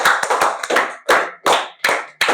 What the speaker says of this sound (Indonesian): tepuk tangan buat Alam.